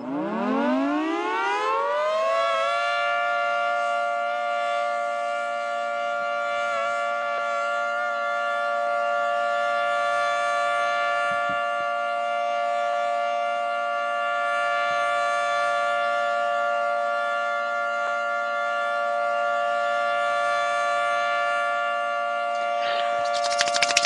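A yellow 3T22 civil defense siren in a Roblox game winds up from a low growl to a loud, sustained multi-tone wail that holds steadily for over twenty seconds, alone.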